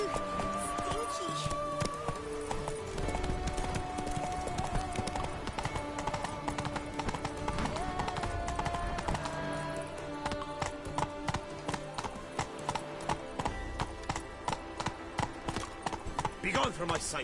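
Horse hooves clip-clop steadily alongside a continuous musical score and other sounds, with a voice talking partway through.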